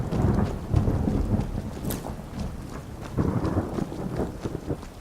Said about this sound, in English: Damnable rain.